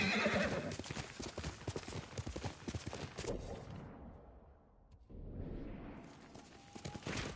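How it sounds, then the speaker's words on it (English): Horse hooves clip-clop steadily alongside a neigh and whinny from a mount in the samurai video game Ghost of Tsushima, fairly close and loud, with the hoofbeats thinning out briefly midway before resuming. "You're a good horse, Kage"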